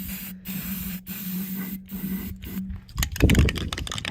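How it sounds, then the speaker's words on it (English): Spray paint hisses from an aerosol can onto a piece of thrifted furniture in several close, loud bursts separated by short pauses, followed by scraping and rattling sounds near the end. "I just want to really spray kind of like down in there and let it just run"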